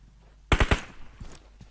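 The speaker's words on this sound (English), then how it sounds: "Shots out." Three sharp, loud gunshots crack in quick succession in the PUBG Mobile video game, followed by quieter scattered shots and faint clatter trailing off in the distance.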